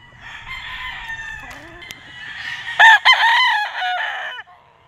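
A white kelso bull stag gamefowl crows loudly and close by in several drawn-out, broken bursts, with faint clucking and farmyard background before it.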